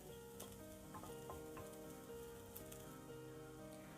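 Spice powders sautéing with onions in a pan, a continuous close sizzle broken by a few sharp clicks and scrapes of stirring, heard alone and fairly quiet.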